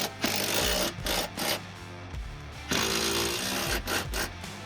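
A power tool, probably an impact wrench, runs in loud sustained bursts while subframe bolts are tightened on a Ford Focus ST170 during a suspension overhaul, with brief stutters and a pause between two long runs.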